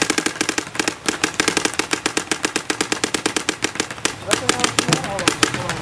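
A Power FX paintball gun fires in a long, rapid, unbroken string of sharp pops from close by. The shots keep coming until the gas supply runs down near the end.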